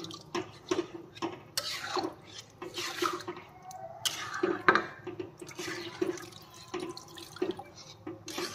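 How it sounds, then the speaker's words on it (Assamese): Water is poured into a cooking pot of turmeric-fried ingredients, giving close, uneven splashing and dripping with a few sharp clinks and no voices. "অকণমান পানী দি দিম।"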